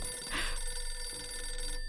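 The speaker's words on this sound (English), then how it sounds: "A phone's ringing." A telephone rings in the horror game Visage, a bright electronic bell trilling continuously and fairly loud for about two seconds over a faint low hum, with no talking.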